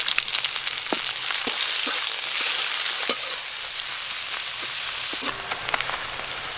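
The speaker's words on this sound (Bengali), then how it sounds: "এবার পেঁয়াজ কুচি দিয়ে দেব।" Chopped onions fry in oil in a pan with a loud, steady sizzle and a few scattered clicks and taps from stirring.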